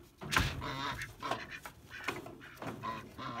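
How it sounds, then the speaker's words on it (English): Ducks quack and honk close by as they are put to bed during cold night farm chores, several loud overlapping calls in an uneven run with no talking. "let's see if I can't get those ducks to bed"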